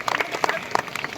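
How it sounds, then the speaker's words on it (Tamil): Audience clapping at a dance performance to a Shiva song at a record-setting event, a short burst of scattered claps that are fairly close and moderately loud, with a voice faintly underneath. "பயங்கரமாக கிளாப் பண்ணுங்க"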